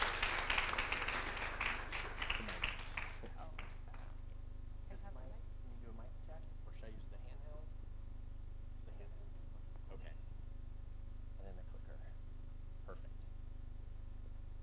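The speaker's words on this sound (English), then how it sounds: "Please give him a round of applause." Applause from a conference audience for a tech-careers speaker, loud at first and then quickly thinning to scattered claps and fading, with a voice talking faintly over the tail.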